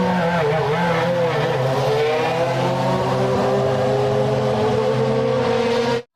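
A race car sound effect for a red toy race car: a loud, continuous engine drone with squealing tires that holds steady for about six seconds before cutting off abruptly.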